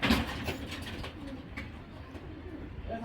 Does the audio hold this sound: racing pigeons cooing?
yes